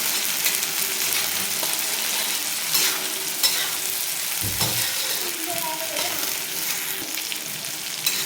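Tawa mutton masala with green ground paste being sautéed in a pan, a continuous close sizzle broken by scraping strokes of a spatula and a few knocks, with faint background noise.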